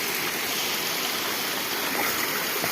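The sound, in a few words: Waterfall in Uttarakhand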